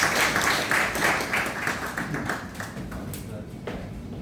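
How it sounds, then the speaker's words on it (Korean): Seminar audience applauding the company CEO after a talk, a dense, steady patter of many hands filling the room, gradually thinning toward the end. "다시 한번 대표이사님께 큰 박수 부탁드리겠습니다"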